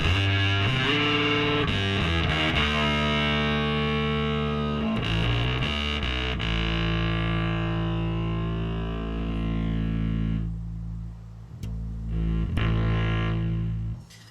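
Heavily distorted electric guitar chords through a Crowther Prunes and Custard pedal at full drive, thick and saturated with sustained crunchy tone, played loud and up close with brief pauses between phrases.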